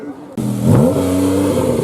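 A supercar in a hotel car park fires up and revs hard against its neutral rev limiter, a loud close engine roar that surges and then holds at a steady buzzing drone.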